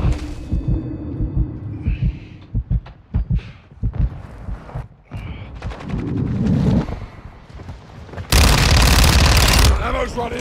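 Rapid bursts of fast-firing SMG gunfire in Call of Duty MW2, loud and close, in clusters with a long sustained burst near the end, amid game sounds.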